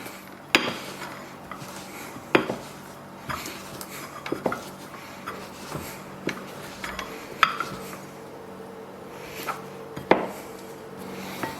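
Spices and shrimp paste being ground together in a mortar for a Banjar sour catfish stew, with a soft steady grinding rub punctuated by sharp pestle knocks every second or two, close and alone.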